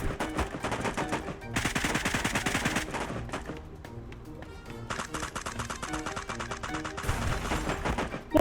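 Rapid bursts of automatic gunfire in a video game rattle in quick succession with short pauses between sprays, loud and close, with voices talking underneath.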